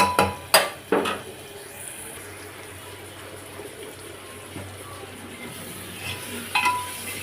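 Gongura mutton curry being stirred in a pressure cooker pot, with a few sharp metallic clinks of a spoon against the pot early on and near the end over a low, steady cooking background.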